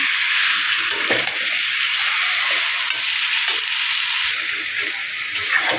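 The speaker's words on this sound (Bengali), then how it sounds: "এখন খুবই কষিয়ে নিয়ে নেব খুব সুন্দর করে কষিয়ে নেব" Beef and tomato sauté in a pan for a thin beef curry with ash gourd, a loud, dense sizzle hissing steadily throughout with occasional soft stirring scrapes.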